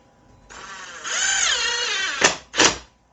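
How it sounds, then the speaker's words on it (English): A power drill or impact driver runs for about two seconds driving screws into blind mounting brackets, its whine rising in pitch, followed by two short close bursts. "now we can finish it off with our drill here,"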